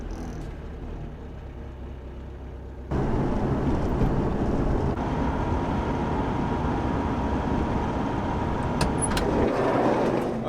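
A diesel van engine idles while warming up, a steady low rumble that rises in level after a few seconds and holds on close and constant.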